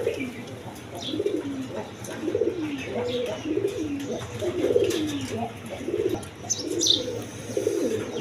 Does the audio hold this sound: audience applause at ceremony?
no